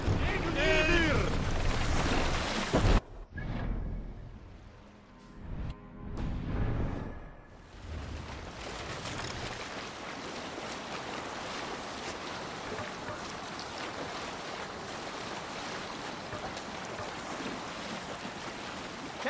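A Viking longship sailing on the sea in Assassin's Creed Valhalla, with a broad, steady rush of wind and waves. A loud burst opens it, a few heavy swells come midway, and then the roar settles into a constant wash.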